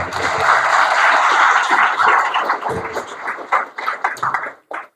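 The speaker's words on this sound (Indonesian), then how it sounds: "Tepuk tangan untuk LP3 Depok." Audience of new students applauding at a public speaking session at LP3I Depok, a full burst of crowd clapping that gradually breaks up into scattered individual claps and stops.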